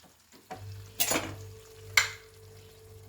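Tomato pieces drop into frying onions for chicken do pyaza, two brief bursts of sizzle about a second apart over a faint low hum, otherwise quiet.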